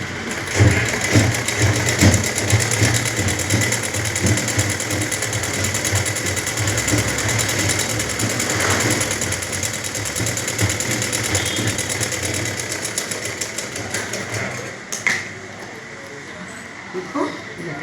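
A sewing machine runs steadily while stitching the hem of a blouse, a continuous mechanical whir with a rapid rhythmic ticking throughout, close and fairly loud, stopping near the end.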